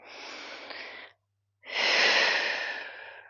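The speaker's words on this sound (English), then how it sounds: "Deep breath in" A slow, deep breath drawn in during a beginner hatha yoga flow, moving from downward dog into a forward step, close and soft, with a short airy sigh before a pause and a longer, fuller inhale.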